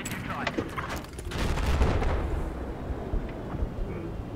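A grenade blast in a video game, a heavy booming explosion with a rumbling tail, surrounded by scattered gunfire and overlapping voices.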